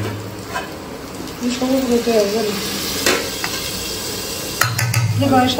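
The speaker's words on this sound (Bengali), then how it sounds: "আজকে মাংস রান্না চলছে। এখানে মাংস রান্না চলছে, মাংস।" Meat frying in a pan while being stirred with a utensil, giving steady sizzling with scraping and clinking of the spatula against the pan, loud and close, with faint voices in the background.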